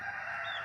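A rooster crowing loudly and close, one brief sustained call cut short, alone without talk.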